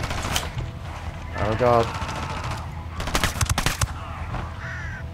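Bursts of automatic gunfire in a co-op tactical shooter video game set in Bolivia, with rapid clustered shots near the end, while a voice reacts in dismay and other game sounds play underneath.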